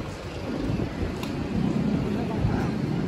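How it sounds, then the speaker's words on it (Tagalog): Strong, cold night wind on a crowded Manila bridge buffets the microphone in a steady, loud roar with low rumbling gusts that swell and ease throughout. "Mas malakas na yung hangin, malamig."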